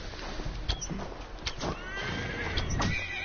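A horse in the video game Assassin's Creed Valhalla neighs and whinnies in a few bursts, with a faint clip-clop of hooves and a low background hum.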